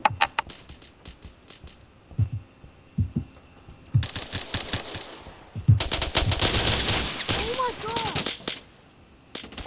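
Rapid FAMAS automatic fire in the Phantom Forces shooter game sounds in sharp bursts, with scattered single shots before a sustained loud volley near the end.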